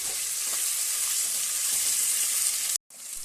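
Chopped tomato sizzles and fries in hot oil in a pan for bottle gourd biryani, a steady close hiss broken by a brief sharp cutout near the end.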